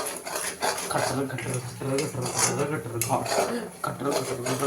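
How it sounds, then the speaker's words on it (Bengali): Spices mixed into egg biryani gravy in a home kitchen pot, with spoon scraping and clinking against the metal in an uneven rhythm, heard close and fairly loud. "এখানে মশলা দিচ্ছে মা এখন সব কিছু, আর মিক্স করতে আছে"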